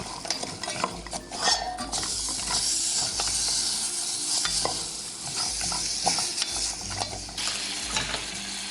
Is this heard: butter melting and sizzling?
yes